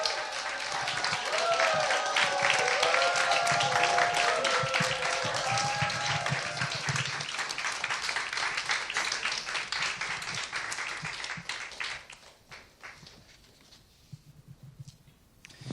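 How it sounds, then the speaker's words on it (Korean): Church congregation applauding and cheering to welcome a visiting pastor at a Sunday service, dense sustained clapping with voices over the top for about twelve seconds before fading to scattered claps. "우리 좀 할렐루야 환호로 박수로 목사님 맞이하겠습니다."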